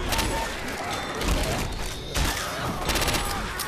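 Rapid bursts of gunfire rattle almost without pause against a zombie horde in Left 4 Dead 2 at a school, dense and loud, with brief gaps between volleys.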